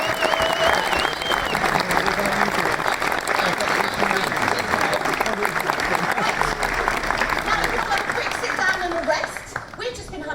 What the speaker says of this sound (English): Please give a big round of applause to our guests